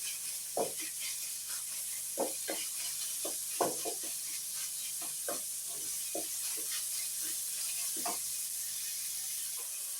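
Meat frying in a pan for Ethiopian tibs, a steady soft sizzle with scattered crackles and pops throughout, faint and close.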